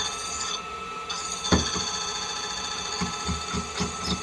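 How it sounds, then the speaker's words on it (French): A grinding wheel is passed over the whole surface of a watch part to flatten it, giving a steady close rasping drone with a sharp scrape near the middle and a few brief rubbing pulses toward the end. "Je vais juste passer vite fait toute la surface de la pièce à la meule"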